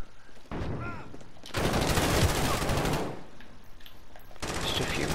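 Bursts of automatic gunfire rattle out in Call of Duty: Warzone, with one long, loud volley in the middle flanked by shorter bursts, all close and dominant over any voice.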